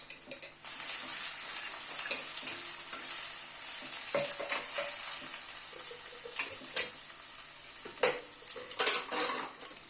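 Spices with Kashmiri red chilli powder and coriander powder frying in a pan for a thin mutton curry, soft steady sizzle broken by repeated clinks and scrapes of a spoon stirring, close and fairly quiet.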